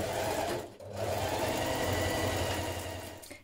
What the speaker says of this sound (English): with a 1 centimeter seam, you're going to sew the bottom edges of your neckband together